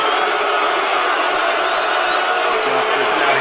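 Crowd cheering in the WWE 2K23 wrestling game, a dense continuous roar of voices and whoops that stays loud and even throughout.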